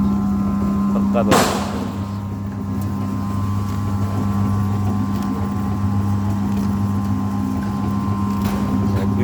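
A feed grinder driven by a 3 kW aluminium electric motor runs with a steady, loud mechanical drone and hum, a sharp bang near the start, and someone speaking over it.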